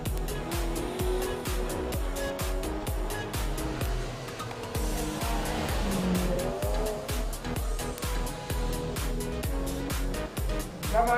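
A Mini race car at the Eliyakanda hill climb, its engine droning loudly and steadily with rapid pulsing revs and tyre noise, heard close and continuous.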